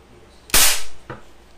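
One sharp, loud crack from a pump air gun charged with five pumps and fired over a chronograph, close by, followed by a smaller click moments later.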